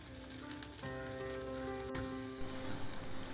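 A thickly sliced tomato sizzles as it hits hot tempering with coriander for dal, a close, crackling fry that swells and then carries on steadily with no talk.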